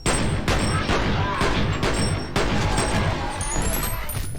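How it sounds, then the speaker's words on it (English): Twin pistols fire rapidly in the video game F.E.A.R., sharp overlapping shots in a fast, loud burst with heavy echoing booms and a chiming effect near the end. "go there and gun him down with my 2 twin pistols"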